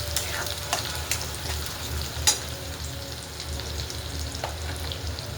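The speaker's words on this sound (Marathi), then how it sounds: "जास्त असं परतायचं नाही आहे, थोडंसं परतायचं आहे तेलामध्ये." Finely chopped onion sautés in oil with a steady close frying hiss, broken by a few sharp clicks from a stirring spoon.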